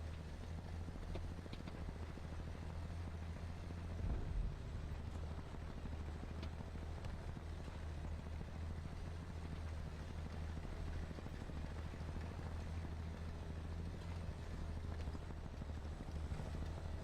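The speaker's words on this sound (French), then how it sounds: "Un Mi-28, Attention, attaque aérienne" A Mi-28 attack helicopter in a video game thrums steadily at low volume for the whole stretch, with a brief louder thump partway through.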